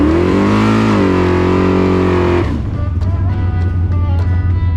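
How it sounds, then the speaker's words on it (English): An old Chevrolet Malibu drag car on 275 drag radials doing a burnout at the starting line, a loud, sustained high engine roar held at revs, then dropping to a rough, lumpy idle with faint clicks. "we rolled the old Malibu up to the starting line to do our burnout"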